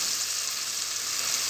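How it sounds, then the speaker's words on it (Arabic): Fava beans with eggs and pastrami frying in a pan, giving a steady, even sizzle that holds close and constant throughout with no voices. "نسيبهم كده يتقلبوا مع بعض كويس ياخدوا كده تقليبه حلوه"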